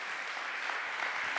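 Steady applause from a museum symposium audience greets a speaker taking the stage, a continuous even patter of many hands with a few sharper claps standing out.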